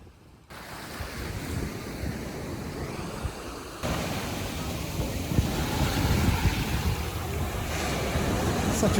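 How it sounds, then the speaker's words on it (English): Ocean waves at Thousand Steps Beach in Laguna wash in a steady, rushing surf, with wind buffeting the microphone and the wash growing louder partway through. "Such a beautiful beach."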